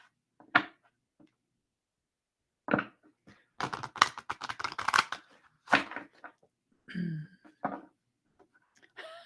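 Tarot cards being shuffled by hand in bursts of dense riffling and flicking, with a longer stretch of rapid card noise in the middle and short pauses between, close by and moderately loud.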